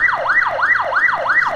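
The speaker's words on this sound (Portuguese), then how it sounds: "liga essa sirene" A wailing police siren from GTA MTA RP sweeps up and down in fast, regular cycles, loud and close, alone without talk.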